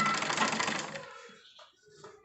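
A sewing machine runs fast for about a second stitching a strap onto a hookah, a close, rapid mechanical chatter that stops abruptly, followed by faint handling sounds.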